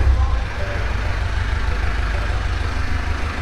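A truck rumbles through narrow old-city streets, a steady low engine drone with a faint hiss above, loud and close throughout the short stretch.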